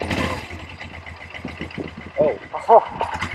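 A cafe racer motorcycle engine ticking over at a low idle, uneven and close, with people talking over it and a couple of brief high squeaks toward the end.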